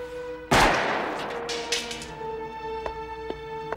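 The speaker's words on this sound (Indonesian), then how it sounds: "Saat sampai di ruangannya, ia menutup pintu dan terdengar suara tembakan." A single loud gunshot in a film scene, a sharp crack followed by a long reverberating decay, with faint tonal music continuing underneath and a few light taps later.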